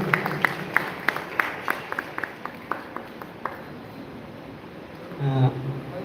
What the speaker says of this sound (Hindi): जोरदार ताली के साथ स्वागत।